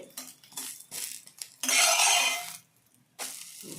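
A broccoli omelette being pressed and fried in a pan gives intermittent bursts of sizzling with utensil scrapes and clinks against the pan, the loudest sizzle lasting about a second.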